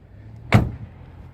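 A single solid car door thump from a Renault Megane 2, sharp and close, with a brief low resonance after it and quiet surroundings.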